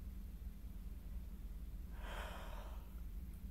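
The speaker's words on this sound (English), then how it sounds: "now that I'm yawning literally every 5 seconds" A single faint yawn, a soft breathy exhale swelling for about a second midway through, over quiet room hum with no talking.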